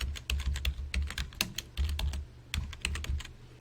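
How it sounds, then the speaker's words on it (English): Steady typing on a computer keyboard, a rapid run of sharp key clicks with brief pauses, close and clear with no talking. "now we will start typing"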